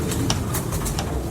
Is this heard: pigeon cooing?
yes